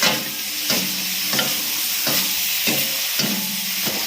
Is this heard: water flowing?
no